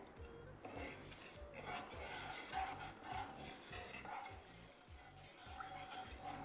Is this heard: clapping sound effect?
no